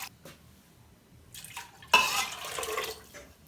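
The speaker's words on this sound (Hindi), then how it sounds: "अब मैं यहाँ पर शामिल कर लूँगी पानी।" Water goes into a pressure cooker holding soaked chickpeas and salt, starting with a few light clinks and then becoming a close, splashing pour that runs for more than a second and then tapers off.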